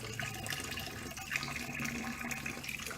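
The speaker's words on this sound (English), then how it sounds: "I've got the shower running right now" A shower in a shuttle bus RV conversion runs steadily, water spraying and splashing into the pan and draining in a constant close hiss with no talking.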